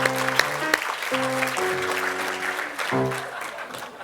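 Applause fills a crowded room at the 40th annual Mayor's Dinner in Newport, a steady wash of clapping that carries on for the whole stretch, with tonal sounds mixed over it.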